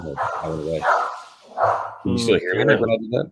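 A dog barks and yips in the background while someone talks over it, the barking fairly close and mixed with his voice.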